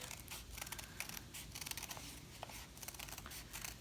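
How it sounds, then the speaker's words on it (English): Scissors snip steadily through a book page while a circle is cut out, giving a dense run of close, papery crunches and scrapes with no talking. "now you're gonna cut out the circle."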